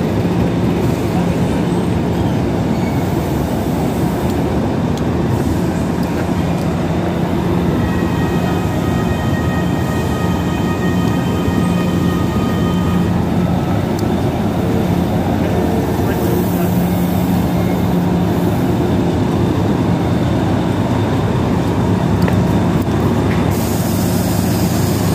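A Class 50 locomotive-hauled train of ex-Greater Anglia Mark coaches at York station on the East Coast Main Line, a loud sustained rumble and rolling drone with whining tones, while people talk nearby.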